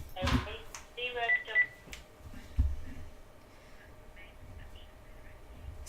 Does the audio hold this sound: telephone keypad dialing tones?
yes